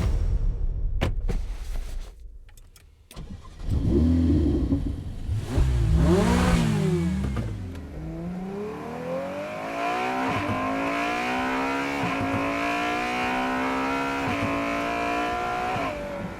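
A car starts up and drives away in a dramatized scene, with a few clunks, then engine revs rising and falling through the gears before settling into a steady cruising hum that fades slightly.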